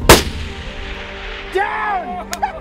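A single loud rifle shot cracks out during an outdoor nyala hunt, followed by a rolling echo and faint distant sounds afterward.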